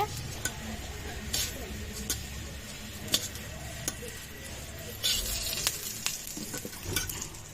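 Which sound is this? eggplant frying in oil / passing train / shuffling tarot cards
eggplant frying in oil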